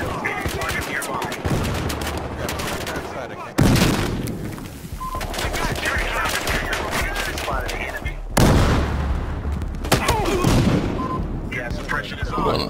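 Rapid gunfire crackles in Battlefield Hardline during a Bank Job heist, sustained bursts of automatic shots with sharp louder blasts, mixed with shouted voices.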